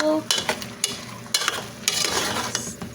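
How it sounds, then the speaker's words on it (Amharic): Meat cooking in a pan for béchamel pasta, sizzling steadily while a utensil scrapes and stirs in several loud strokes, with metallic clinks against the pan. "ስጋችን እየበሰለ ነው"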